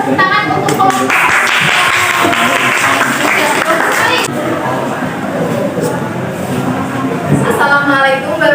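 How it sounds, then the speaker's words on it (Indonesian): Clapping from a classroom audience of teachers after a competition presentation, a burst of many hands in the middle of the clip, with talk and room chatter around it. "Tepuk tangan untuk kompetisi."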